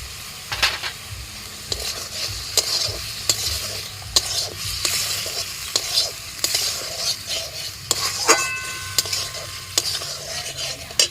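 Paneer cubes added to a pan and fried for butter paneer: a continuous sizzle broken by repeated spatula scrapes and metallic clinks against the pan, close and fairly loud, with a brief faint voice at one point.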